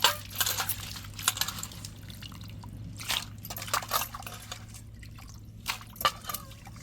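Water sloshes and splashes in a basin as crabs are rinsed, clattering, knocking hard shells, irregular bursts of rinsing close by over a low steady hum.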